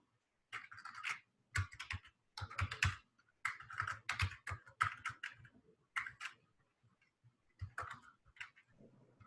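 Keystrokes on a computer keyboard come in quick bursts of clicks with short pauses between groups, close and clear with no talking.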